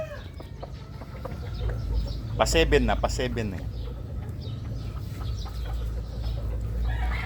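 A young rooster about six months old crows once close by, loud and drawn out, among scattered clucking and a low farmyard rumble, with people talking throughout.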